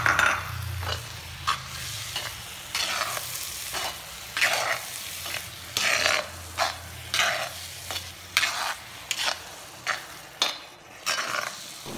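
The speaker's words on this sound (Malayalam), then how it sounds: "എല്ലാം കൂടി നല്ലപോലെ ഒന്ന് വഴറ്റി കുറച്ച് നേരം ഒന്ന് അടച്ചു വയ്ക്കുക." Chicken curry with ground tomato sautéing in a pan, a soft continuous sizzle broken by repeated scraping stirs of a spoon against the pan, close and fairly loud with no voices.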